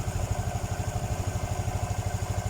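A Honda Supra FI motorcycle engine runs with a rough, sputtering idle from a faulty O2 sensor, giving a close, steady, rapid low-pitched putter with no talking.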